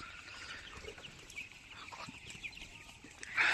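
Young chicks about 20 days old, raised free range, cluck and cheep softly nearby in a steady low chatter, rising briefly at the end, with no talking.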